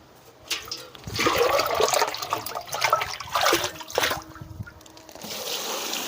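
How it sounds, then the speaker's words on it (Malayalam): Water splashes and gushes steadily into a bucket for several seconds, a loud continuous pour that tapers off near the end. "മുക്കാൽ ഭാഗത്തോളം വെള്ളം ഒഴിച്ച് കൊടുക്കാം"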